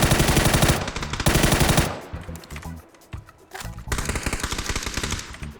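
Rapid automatic gunfire in PUBG rattles in loud sustained bursts, pausing briefly before another long volley.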